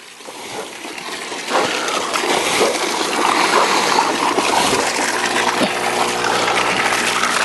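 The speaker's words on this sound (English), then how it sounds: "That is 600 gallons an hour being pumped over 15 feet high with a little Pond Master pump" Air lift pump driven by a small Pond Master pond pump, pushing water and air about 15 feet high in a garden; a steady, continuous gush and splash of water that grows louder and holds without talk.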